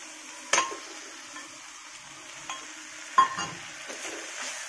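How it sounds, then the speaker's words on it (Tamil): Spinach greens stirred in a pan while sautéing for a village-style lentil and spinach mash, heard as a faint low cooking hiss with a few scattered spatula clinks and scrapes against the pan. "கீரை ஆட் பண்ணி நல்லா வதக்குங்க."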